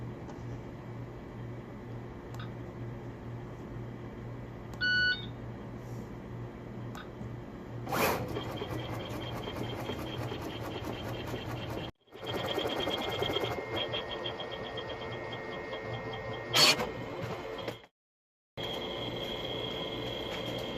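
A Zund routing machine initializes with a few short electronic beeps followed by motors whirring and buzzing in extended runs, with brief silent pauses and a sharp burst midway.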